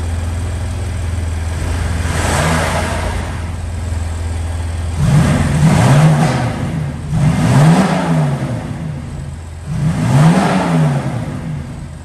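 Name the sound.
car engine revving with new air intake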